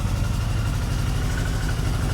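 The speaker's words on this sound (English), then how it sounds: "You can hear the diversion warming up in the background." A Yamaha Diversion motorcycle idles while warming up, a steady low, throbbing engine rumble that carries on evenly without revving.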